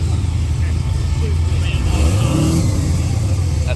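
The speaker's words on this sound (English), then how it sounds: "Here we got a WRX with a blown V8." A Subaru WRX fitted with a blown V8 rumbles loudly and close at a Rockynats car-festival pre-meet, idling deep and steady before a rising rev swells mid-way and settles back, with crowd noise and faint voices underneath.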